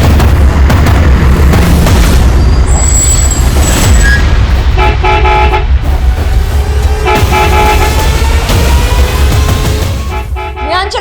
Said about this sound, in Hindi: देखो थापा बार बार हॉर्न मार रहा है